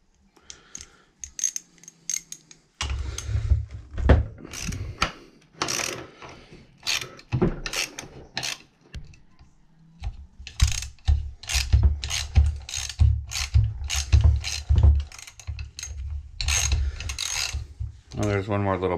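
Ratchet wrench working the 10 mm muffler bolts on a Poulan chainsaw, with bursts of rapid clicking interspersed with metallic handling and rubbing, close and moderately loud, no talking.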